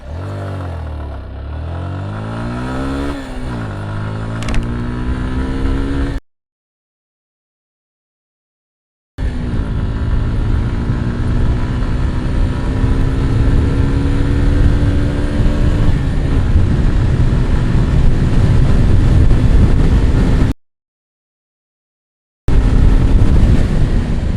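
A 2023 Suzuki Gixxer SF motorcycle pulls away from a standstill, its engine revving up loudly through several rising gear pulls with brief drops between shifts, close and continuous amid wind buffeting, no talk.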